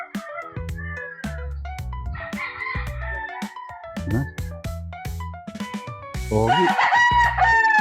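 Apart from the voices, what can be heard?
chickens crowing and clucking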